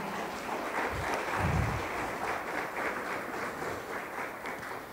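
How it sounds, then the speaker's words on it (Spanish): A church congregation claps along during a Spanish-language worship service, a steady broadband wash of applause filling the whole moment at moderate loudness, with no clear speech over it. "¿por qué no le da palmas a nuestro Señor?"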